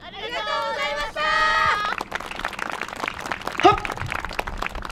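Applause breaks out from a festival crowd after a yosakoi dance troupe bows at the Kawatana Nanohana Yosakoi Festival plaza, a brief burst of clapping following a chanted group voice, with more calling after it.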